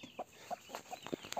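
Inside a coop, a hen gives a quick run of short, soft clucks, faint and unaccompanied.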